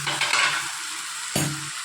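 Spiced masala fries in a pot while making pulao, giving a steady close sizzle with stirring scrapes and a sharper burst of crackle midway.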